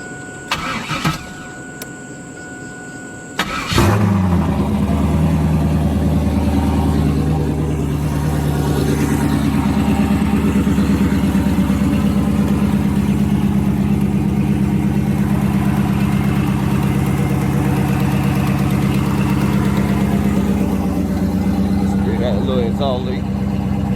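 After a brief start, a Chevrolet Camaro engine with an exhaust leak turns over and settles into a loud, steady idle that drones on without letting up.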